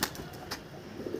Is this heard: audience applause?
no